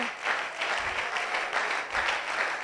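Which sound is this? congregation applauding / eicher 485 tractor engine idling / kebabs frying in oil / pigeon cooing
congregation applauding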